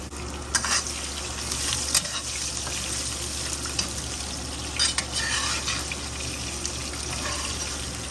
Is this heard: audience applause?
no